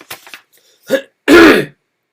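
A few short, throaty coughs close up, ending in one harsh, louder hack, with brief quiet gaps between them.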